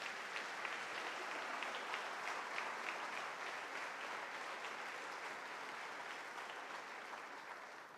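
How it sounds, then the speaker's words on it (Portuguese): A church congregation applauds in a sustained, even wash of clapping that fills the room from start to finish, tapering slightly toward the end, with no talking over it. "Você pode aplaudir Jesus mais uma vez?"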